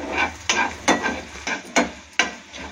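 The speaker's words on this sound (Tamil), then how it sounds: "இந்த மாதிரி ஃப்ரை பண்ணிக்கோங்க சிம்மிலே வச்சு" Mustard seeds, a pinch of fenugreek, coriander and chilli powder fry gently in oil over a low flame. About six sharp spatula scrapes and knocks land roughly every half second over a soft, continuous sizzle, close to the pan.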